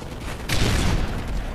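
Gunfire from the Modern Warfare 3 multiplayer map Underground during a Domination match: a dense, loud burst of shots rolls in about halfway through and keeps going to the end.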